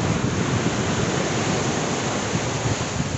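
Strong ocean waves break at Marina Beach, Chennai, in an unbroken loud roar of surf with heavy wind rush, evening at the shore, no voices.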